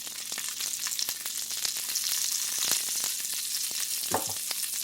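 Breaded steak fingers sizzle in an uncrowded frying pan, a continuous bright crackle of hot oil broken by sharp pops and a couple of scraping clicks as pieces are moved, close and with no talking.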